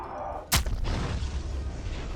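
A turret fires in a post-apocalyptic, Starcraft-inspired roguelike game: one sharp, loud blast, then a heavy rumbling tail that keeps going to the end.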